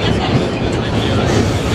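An R1 nostalgia holiday subway train runs between Queens Plaza and 2nd Avenue, its steady loud rumble and rattling filling the car, with a voice heard over the noise.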